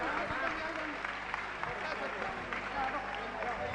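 An audience claps and applauds at a daily darshan and discourse gathering for Jain saint Acharya Vidyasagar, a dense, steady patter of many hands running throughout without a pause, mixed with crowd murmur.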